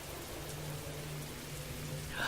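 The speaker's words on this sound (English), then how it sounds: "Overhead, the rain had begun to intensify." Steady soft rain patters in the Fallstreak video game, a faint even wash of drops with a low hum beneath and a slightly brighter burst near the end.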